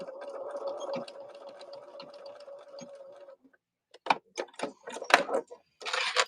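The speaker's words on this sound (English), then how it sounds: "Back stitch the heck out of it." A sewing machine back stitches fabric with a steady mechanical whirr and stitching rattle for a few seconds, then stops, followed by clicks and handling noises nearby.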